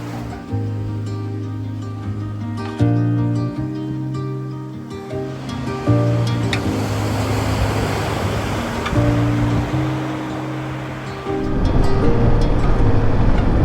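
Ocean waves rolling into a bay on a coastal road in New Zealand, heard as a steady wash of surf that swells louder toward the end, with a low engine hum underneath.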